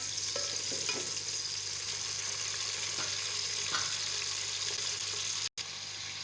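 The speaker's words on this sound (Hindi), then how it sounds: "इसमें ये 2 दरमियानी साइज़ के प्याज डालें। प्याज डाल के इनको ब्राउन करते हैं।" Two medium onions fry in hot ghee for chicken pulao, a steady close sizzle with a few spatula strokes stirring through, no speech.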